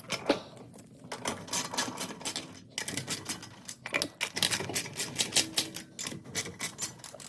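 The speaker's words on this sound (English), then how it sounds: "I'm gonna tighten the jack up and start lifting" A car jack being cranked tight and lifting a Lexus IS250 gives a steady run of close, fast mechanical clicks and ratcheting taps. A few brief pauses break the run, and no one speaks.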